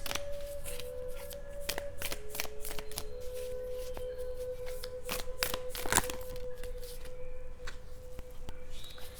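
Tarot cards being shuffled by hand before a single card is drawn, a steady run of close, crisp riffling and sliding taps that go on without pause, with no talking over them.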